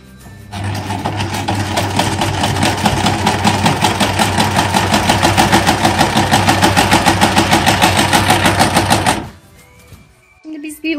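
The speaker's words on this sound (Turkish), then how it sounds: "Ve buradan dikmeye başlayacağız." A sewing machine stitches folded lining fabric at a fast, steady, rapid-fire pace for about nine seconds, loud and close, then stops abruptly, leaving faint background sounds.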